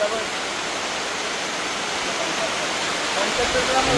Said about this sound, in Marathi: आवाज बघा आवाज पाण्याचा कसा पाऊस पडतो एकदम डेंजर